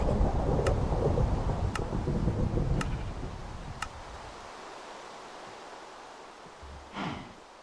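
Steady hiss of rain in Minecraft with a few sharp periodic ticks, loud at first, then easing to a quieter wash after about four seconds, with a brief swell near the end.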